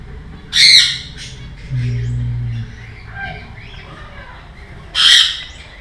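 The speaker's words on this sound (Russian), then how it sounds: "Вот еще какие-то птички." Birds at a mini zoo on Samui give two loud, harsh squawks, one early and one near the end, with quieter rustling and softer sounds in between.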